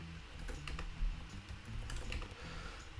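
Quiet keystrokes tapped on a computer keyboard while opening a terminal to code an iOS app, coming in irregular bursts of clicks with short pauses and no speech.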